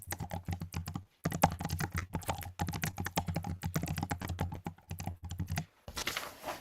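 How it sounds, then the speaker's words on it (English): Fingers typing on a computer keyboard, a close, rapid run of crisp key clicks in bursts with brief pauses, then a faint rustle at the end. "I'll type in the poem names"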